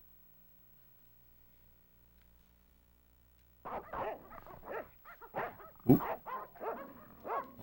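Dogs bark in the Broken Sword: The Shadow of the Templars video game, a burst of repeated sharp barks and yips after a quiet stretch, loud and close, with a brief vocal exclamation among them.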